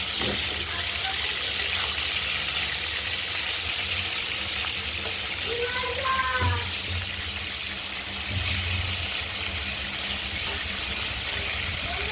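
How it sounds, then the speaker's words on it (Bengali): Pieces of katla fish fry in hot oil in a kadai, giving a steady, hissing sizzle with fine crackling, close and constant throughout, with a few faint clinks in the middle. "মাছের পিসগুলো আমরা ভেজে নিচ্ছি।"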